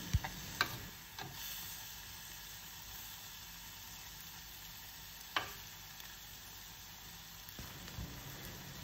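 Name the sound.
prawns frying in coconut oil with turmeric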